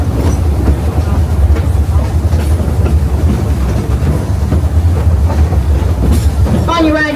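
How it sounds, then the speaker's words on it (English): A theme park train rolls along its tracks at Silver Dollar City in Branson, Missouri, a loud continuous clickety-clack rumble close by, with a brief squeal near the end. "Stop the train."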